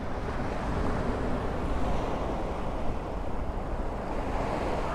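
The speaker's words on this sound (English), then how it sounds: "Can you hear the ocean?" Ocean waves heard from the shore, a loud, continuous broadband roar of surf mixed with wind buffeting the microphone.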